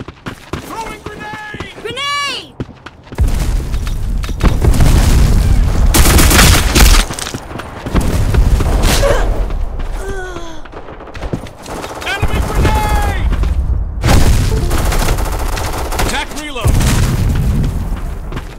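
Grenade explosions and bursts of automatic gunfire in the online shooter Black Squad, with loud booms and rapid firing running through most of the stretch while players talk over the combat.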